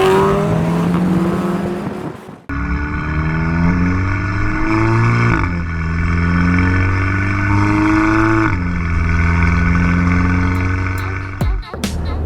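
A modified 2016 VW MK7 Golf R with a Milltek non-resonating, non-valved catback exhaust revs loudly and close, its engine note climbing and dropping in repeated pulls with no one talking.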